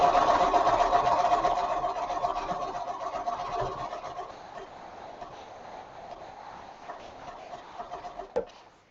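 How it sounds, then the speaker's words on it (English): A sewing machine hums steadily while stitching in the ditch on a quilt, its motor whine slowly easing before a sharp click at the end. "I'm stitching in the ditch."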